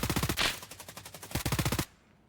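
Rapid automatic gunfire in a competitive shooter tournament match, two loud bursts of fast rounds with a short gap between them, then an abrupt stop.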